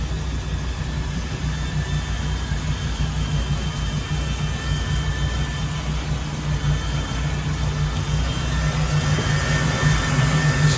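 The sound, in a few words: Mercruiser 4.3L MPI boat engine idling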